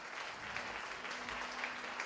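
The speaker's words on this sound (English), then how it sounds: "Keep your applause going" A school audience applauds bands at a high school music show, a dense, continuous wash of clapping filling the hall, with a faint steady tone underneath.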